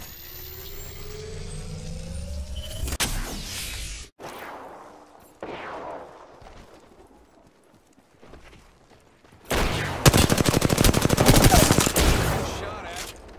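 Bursts of rapid automatic gunfire and single shots in the video game Apex Legends, loud and close, with dense rattling volleys near the start and a long sustained burst toward the end, separated by quieter gaps.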